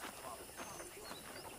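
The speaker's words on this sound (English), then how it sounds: "Okay, let's see if you can still ride a horse." Horse hooves clip-clop in Red Dead Redemption, a quick rhythmic series of muffled hoofbeats on the ground, fairly near, against a dense background.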